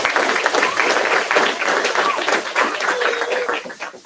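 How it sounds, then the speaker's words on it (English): Audience applause at a grand opening and ribbon-cutting ceremony, steady and dense for about four seconds as the crowd welcomes two architects, fairly loud and continuous with a slight fade at the end. "Let's give them a nice round of applause."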